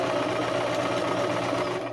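A sewing machine found in the trash runs continuously with its zigzag stitch setting stuck, giving a loud, steady mechanical whir with a fast, even rattle throughout.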